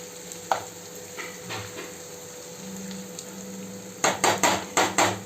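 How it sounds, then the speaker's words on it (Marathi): Chicken stir-fried with ginger garlic paste for chicken sukka masala, a steady close sizzle under occasional spoon scrapes, ending in a quick run of five loud rhythmic clanks of the spatula against the pan. "थोडीशी आलं लसूण पेस्ट टाकल्याच्या नंतर त्याचा सुगंध आणखीनच छान येणार असं परतवून घ्यायचं आहे"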